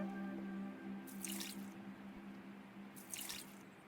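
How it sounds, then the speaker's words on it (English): Flowers are watered in the OMORI video game with two short bursts of splashing water over a steady low background hum. "I guess we'll water all these flowers."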